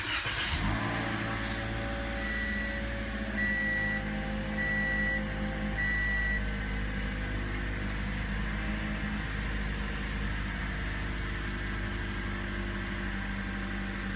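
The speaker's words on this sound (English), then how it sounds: "put your foot on the brake and push the button to start it up" A 2015 Toyota Corolla LE starts by push button, a short whirring crank at the very beginning settling into a smooth, steady idle hum with a few faint electronic chimes, heard from inside the cabin, no talking.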